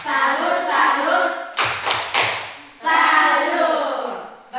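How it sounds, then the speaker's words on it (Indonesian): A classroom student group gives a rhythmic clapping salute: a short run of sharp, close claps sits between stretches of chanting group voices. "Tepuk salut dulu untuk kelompok mawar."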